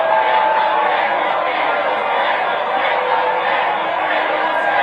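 A large crowd at a Trump mega rally roars continuously, a dense wash of voices and clapping holding steady and loud throughout with no pauses.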